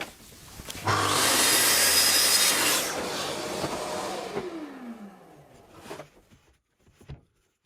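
A power saw cuts wooden picture frame mitres: a loud broadband whine of roughly two seconds that eases and winds down over the next few seconds, followed by a couple of brief knocks, with no one talking.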